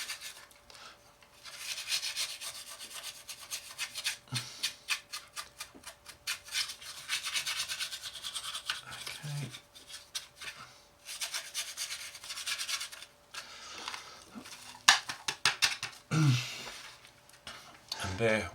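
Brushing stripped primer and silver paint off a 1/32 scale Trumpeter Corsair aircraft model being weathered, a steady dry rubbing and rasping that runs close and continuous, with a few louder scuffs and a voice talking over it at times.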